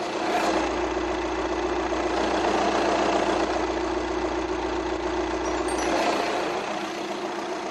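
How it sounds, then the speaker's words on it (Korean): A 2013 Audi A5 Sportback quattro engine idles steadily with the hood open, a loud, even close-up hum with a low rumble holding unchanged throughout, no voices. "이 아우디 A5 차량의 엔진 소리 한번 자세하게 들려드릴게요"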